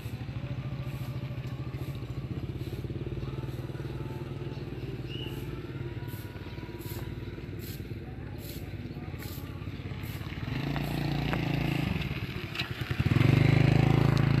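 A motorcycle engine runs steadily nearby at a bridge in Siem Reap, Cambodia, idling with a rough rumble before revving louder near the end.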